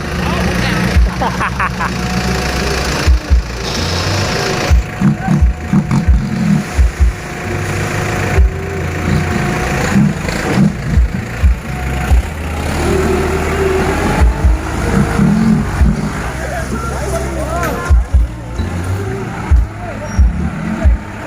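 A loud tractor engine runs steadily throughout, rumbling low with occasional rises in pitch, close by, with voices talking over it.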